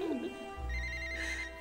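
A phone rings with a steady electronic trill, fairly close, over a low rumble, with a brief voice near the start.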